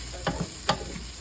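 About two cloves' worth of garlic sautéing in a pan over medium heat, a soft continuous sizzle broken by a couple of quick stirring scrapes.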